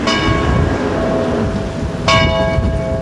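A church bell tolls loudly with long ringing overtones, two strikes a couple of seconds apart over a rumbling background.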